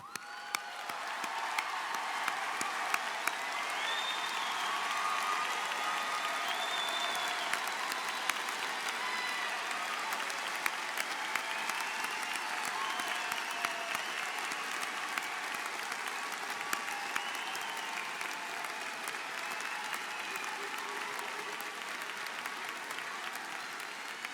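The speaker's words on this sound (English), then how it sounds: "stand and applaud their accomplishments" Sustained applause from a large audience at the University of Washington Bothell 2015 commencement, with the crowd standing to honor the graduating class. Dense, even clapping fills the whole stretch, with a few scattered whoops and cheers from a distance.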